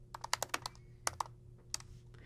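Fingers tap out quick bursts of keystrokes on a computer keyboard, close and fairly quiet, with short pauses between clusters of clicks and no voice.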